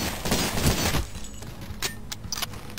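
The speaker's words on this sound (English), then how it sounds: "Come on, throw your axe again so I can shotgun you." Shotgun blasts from the game Cultic: a loud burst of fire at the start, then a few sharp separate shots and clanks against quieter ambience.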